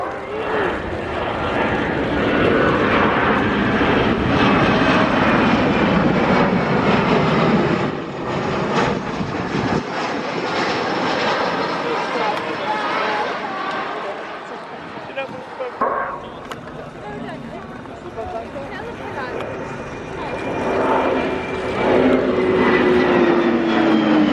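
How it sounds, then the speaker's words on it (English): A Boeing Poseidon MRA1 from 120 Squadron flies over the Royal International Air Tattoo air show, its loud, steady jet roar filling the air and swelling and fading as it passes, with crowd noise and talk underneath. "The Boeing Poseidon MRA-1 from number 120 Squadron at RIAT"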